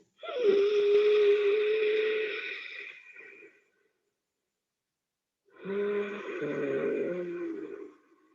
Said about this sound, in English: And once you're done with your 3 Ujjayi breaths, start your normal breathing process.